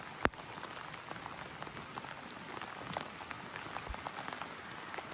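Heavy rain falls outdoors during dog training, a dense steady hiss of drops on surfaces with occasional sharper splats, fairly close and continuous.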